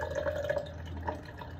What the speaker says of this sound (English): I'm just wetting my hands because,